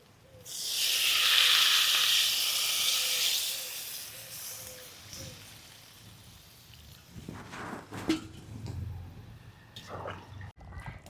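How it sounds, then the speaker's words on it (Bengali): Koi fish curry broth with yam boiling in a pan on the stove, a loud steady hiss and bubbling at first that eases into softer simmering with a few small clinks and taps near the end. "ঝোলটা কিন্তু ভালোই ফুটছে"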